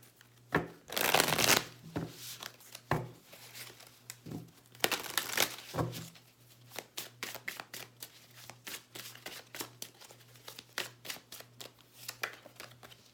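Tarot cards are shuffled by hand: loud riffling bursts at first, then a long run of quicker, softer card taps and slides, close up with no talking.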